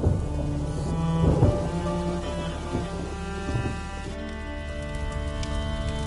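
Steady rain and low rolling thunder fill the scene in the video game A Plague Tale, a continuous dense hiss with a deeper rumble swelling early on, alongside faint musical tones.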